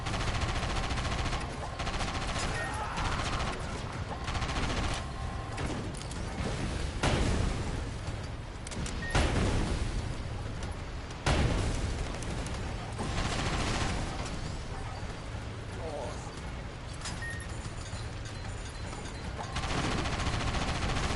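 Gunfire in the video game Sand Land, with repeated bursts of rapid shots and heavier blasts going off loud and close, continuing across the whole stretch with brief lulls.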